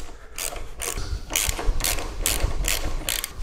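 Ratchet wrench loosening the handlebar bolts on a Harley Road Glide, giving a series of quick clicking ratchet strokes in a steady back-and-forth rhythm, close and clear, with no talking.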